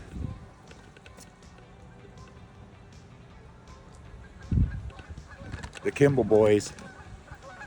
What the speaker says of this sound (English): There's the geese. There they are.